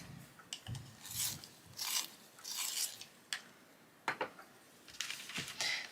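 A mauve coloured pencil being sharpened, heard as soft, close scraping and rasping strokes in short irregular bursts, faint and intimate with no talking.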